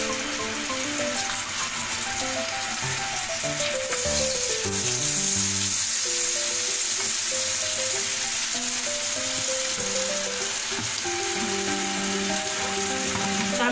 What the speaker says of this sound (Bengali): তো হাঁড়িটা গরম হয়ে গিয়েছে, আমি এখানে বাটার দিয়ে দিলাম।